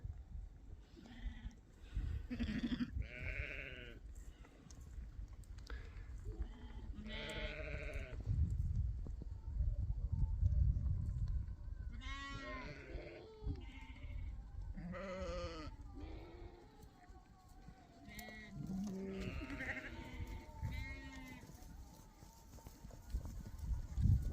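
A flock of sheep and lambs by a pond in Cappadocia bleats repeatedly, the calls overlapping near and far over soft rumbling background noise, with occasional quiet voices.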